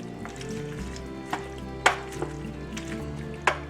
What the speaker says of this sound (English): And I'm going to start stirring this around.